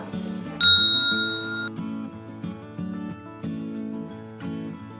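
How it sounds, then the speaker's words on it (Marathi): A single bright notification bell ding rings out once near the start, its shimmering tone fading over a light, steady musical backing. "लाईक करा, सबस्क्राईब करा आणि ही घंटी वाजवा"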